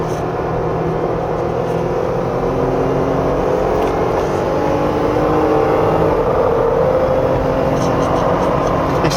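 A 2022 Jeep Gladiator Rubicon's engine drones and revs loudly from inside the cabin as it downshifts on a winding road, rising and falling under continuous talk.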